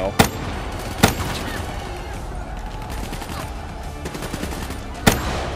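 A DMR rifle firing in the video game Black Ops 3: three sharp, spaced single shots, loud and close, over a steady rumbling game background.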